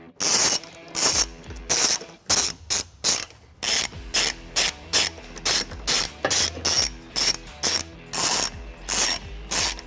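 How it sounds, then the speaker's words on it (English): Ratchet wrench with a 15mm socket and 4-inch extension backing out bumper beam bolts on a 2021-2025 Chevy Trailblazer, clicking in loud, close bursts of rapid pawl ticks separated by short pauses, with no talking. "We will do this using a 15mm socket and an extension of at least 4 inches or more."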